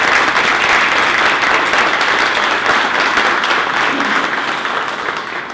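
Audience at a Lexington chamber breakfast breaking into sustained applause, dense crowd clapping that holds steady for several seconds and then begins to taper off near the end.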